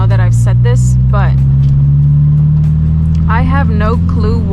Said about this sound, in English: This is just point of view driving of my 2014 Subaru BRZ 6-speed.